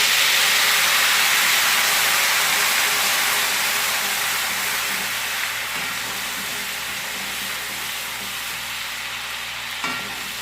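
Garlic and ginger paste fries with cumin in hot oil, giving a loud, steady, close sizzle and hiss that eases slightly over time, with a faint clink near the end.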